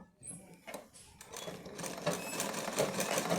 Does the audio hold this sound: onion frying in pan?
no